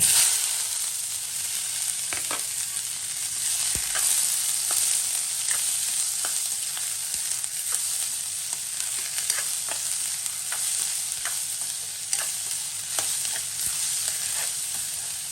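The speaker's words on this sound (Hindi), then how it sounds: "अच्छे से भुनेंगे प्याज को" Steady sizzling and crackling of onions, garlic, black pepper and cardamom frying in a hot pan, with occasional sharp ticks and clinks, continuous and close, no voices.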